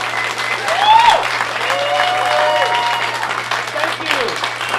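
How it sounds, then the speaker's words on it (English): Steady studio audience applause fills the whole stretch at an even, loud level, with a few whoops and vocal cheers rising over the clapping. "Give a round of applause for David and the Bruce."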